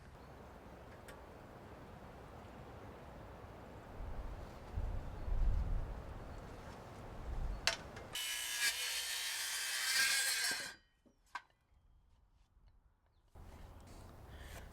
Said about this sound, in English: I'm notching out this post so one 2x6 will be fully supported, the second only partially